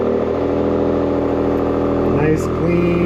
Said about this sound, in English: Nice, clean E85 thermal cold start.